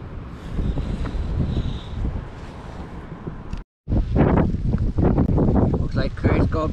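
Wind gusts steadily at a seaside cliff near a lighthouse during shore fishing, a loud rushing buffet that briefly drops out, with a person talking over it.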